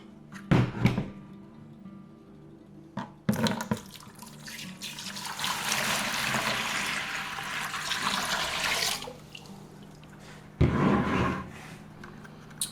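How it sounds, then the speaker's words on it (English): Water poured into a homemade chicken waterer, a steady rushing pour lasting several seconds in the middle, framed by brief knocks and handling sounds before and after. "water and I'm about to pour in."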